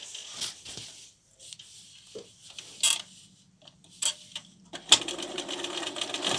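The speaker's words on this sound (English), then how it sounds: "we're going to take it back to the machine and we're going to sew that last little bit." A sewing machine stitches quilt binding in short bursts of mechanical whirring, with pauses and small clicks between runs, close and fairly quiet.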